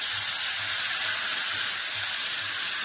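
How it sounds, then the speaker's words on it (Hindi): Potatoes fry in hot oil while being prepared for khichdi, giving a loud, steady hiss and sizzle that holds continuously throughout, close and unbroken. "पहले आलू को भूंज लेंगे सब्जी बना के"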